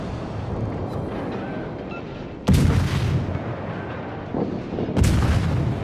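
Heavy naval artillery booms twice, a few seconds apart, over a rumbling battle backdrop in a World of Warships match involving the Japanese cruiser IJN Katori; loud, close blasts with no talking.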